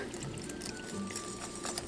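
Soft, steady pouring of liquid into a bowl, quiet and continuous with faint clinks in the background.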